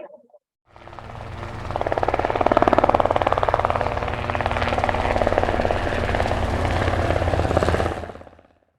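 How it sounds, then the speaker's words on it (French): A helicopter sound effect in a radio drama, its rotor thudding in a steady rapid pulse under a whining engine, rising in loudness as it draws near, holding strong, then cutting off. "Le bruit d'hélicoptère est de plus en plus fort."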